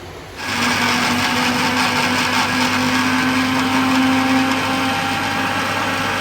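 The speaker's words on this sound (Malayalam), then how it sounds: "ഇനി നമുക്കിത് മിക്സിയിൽ ഗ്രൈൻഡ് ചെയ്യാം." A mixer grinder whirs loudly and steadily while grinding spices after a brief quiet start, a constant motor drone with a high whine running throughout.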